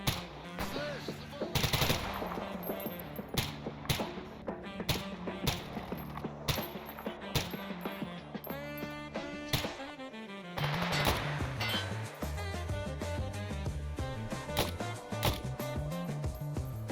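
Rifle fire in the video game Stalker Anomaly: loud, rapid bursts of automatic shots crack repeatedly across the clip, with brief pauses between volleys and a busy game soundscape underneath.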